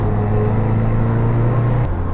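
Austin Mini Cooper S clone, a MkII-style tiny car, heard from inside while driving over bumps: a steady low engine drone with harmonic hum and road rumble, ending in a sudden drop at the end.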